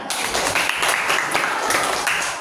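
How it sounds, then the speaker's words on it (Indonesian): A school class claps for a student group, a short burst of moderately loud applause with uneven, clustered claps in a room. "kita kasih tepuk tangan banyak-banyak"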